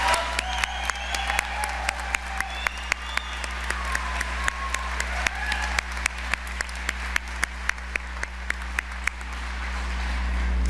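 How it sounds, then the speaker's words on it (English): A crowd at a college graduation ceremony claps in sustained, even applause, moderately loud, with a low steady hum beneath and a few sharp individual claps standing out. "let's give them a round of applause"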